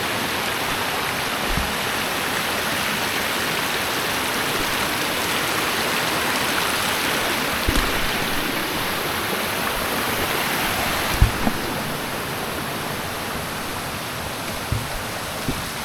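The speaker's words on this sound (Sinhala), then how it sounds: "ඉතින් බලන්න වතුර වල තත්ත්වය. වතුර වැඩි." Rushing stream water near Dumbara Falls after a cyclone, a dense, unbroken roar of swollen flow, loud and close, with a few faint knocks and no speech.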